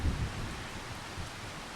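Steady rain with a low rumble of thunder from a Farming Simulator 25 storm on the Louisiana map, a continuous wash of rainfall over a deep roll that is strongest at the start, with no talk.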